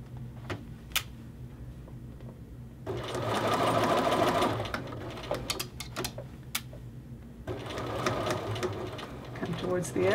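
Sewing machine stitching a collar to its facing on a men's shirt, two bursts of fast steady whirring with clicks between, close, under a person talking.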